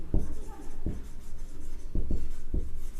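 Chalk or marker taps and strokes on a classroom board land in short separate bursts, some quick pairs, while a teacher talks throughout.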